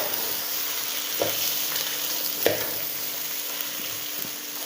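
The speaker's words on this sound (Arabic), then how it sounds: "وقلبي بقى الشعرية مع الرز عشان كلهم يسخن مع بعضه" Vermicelli and rice being stirred in hot ghee in a pot, a soft steady sizzle with a few scraping stirs standing out, close and unaccompanied by speech.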